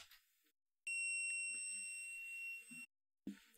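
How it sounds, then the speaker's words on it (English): A Sega Dreamcast VMU with a dead battery gives a steady, high electronic beep that holds for about two seconds. It sounds faint and close, with short quiet gaps on either side. "The VMU, out of battery, making the beep."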